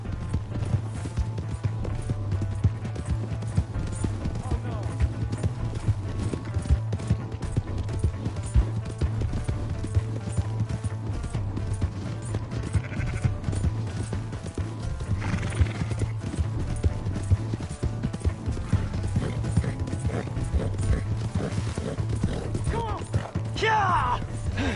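Rapid hoofbeats clatter continuously at a gallop in Red Dead Redemption 2, with a horse whinnying and a low rumble of movement, voices briefly heard.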